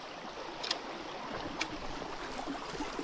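Water rushes steadily from a mountain stream waterfall in Ladakh, a soft, continuous close wash with a couple of faint splashes and no talking.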